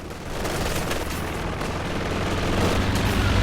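An anti-infantry strafing run in a World War II strategy game, heavy gunfire rattling in a dense, continuous barrage with booming impacts, loud and close throughout.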